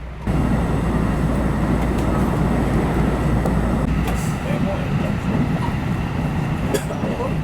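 Steady rumble of a JR Central Shinkaisoku rapid train running toward Toyohashi, heard from inside the carriage as a loud continuous low drone with track noise and a faint voice or announcement over it.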